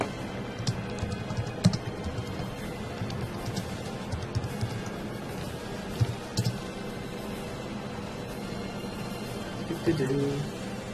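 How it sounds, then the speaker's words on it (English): A computer keyboard clicks in scattered soft keystrokes through a steady noisy background, with occasional voice nearby. "Just doing some typing."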